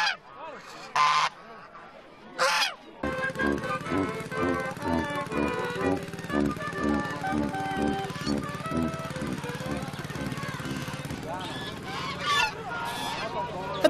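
A flock of geese in a village goose race honks loudly and repeatedly, overlapping nasal calls close by, preceded by a couple of brief bursts and continuing steadily throughout.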